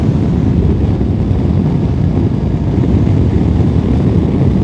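Voge 525 DSX motorcycle engine running loud and close with a dense, steady roar and rough low-end texture, no talk over it.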